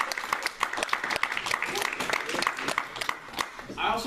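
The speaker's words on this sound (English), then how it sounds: "let's give these people a round of applause." Audience applause at a live event, a round of clapping with distinct claps from nearby hands over a wash of crowd noise, fading toward the end.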